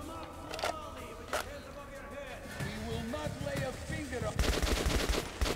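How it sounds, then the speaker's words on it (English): Enemy gunfire in the video game Metro 2033, sharp single shots early on and then a dense, loud burst of rapid fire near the end, with someone talking over it. "Why are they shooting at me already?"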